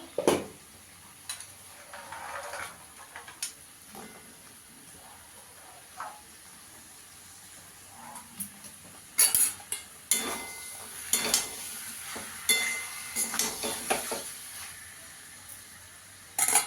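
Potatoes for a garlic potato dum are stir-fried in a kadai, with a soft sizzle and intermittent spatula scrapes and metal clatter that grow louder and busier toward the end.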